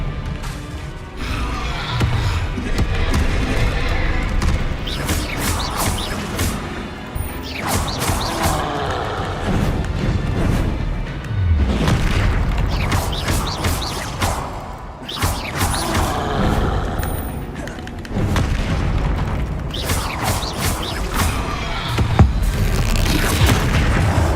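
Spell effects in Hogwarts Legacy, fire and disarming spells cast in combat, loud bursts of booming whooshes, crashes and mechanical clatter in rapid repeated waves with barely a gap between them.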